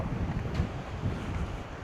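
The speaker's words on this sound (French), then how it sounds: "il y a un sacré vent" Strong wind buffets the microphone in a continuous low roar with gusty swells, loud and close, no voices, on an overcast coast at low tide.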